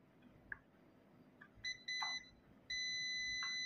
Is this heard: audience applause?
no